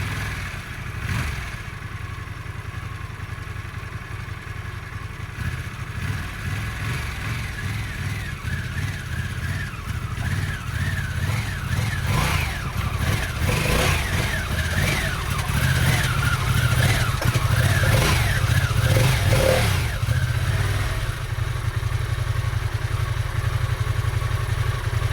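A 2023 Harley-Davidson Pan America Special motorcycle engine runs and revs, a rough low rumble that builds and swells over about twenty-five seconds with rattling mechanical clatter, heard close and alone without talk.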